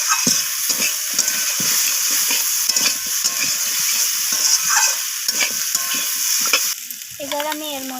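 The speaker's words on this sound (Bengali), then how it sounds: "সমস্ত কিছু মশলা আমি সবজির সাথে এইভাবে নাড়াচাড়া করে একটু ভাজা ভাজা করে" Pumpkin, bitter gourd and eggplant stir-fried with spices, including ground cumin, in a pan: a steady close sizzle with repeated scraping strokes of the spatula throughout, no talking.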